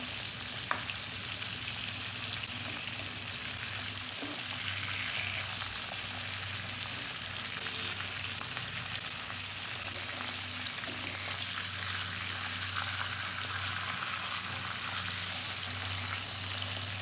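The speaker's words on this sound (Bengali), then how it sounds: "সুন্দর করে মাছগুলো ভেজে নেব" Pangas river fish frying in oil in a pan, a steady close sizzle with crackling spatter running throughout, with no talk and a constant low hum underneath.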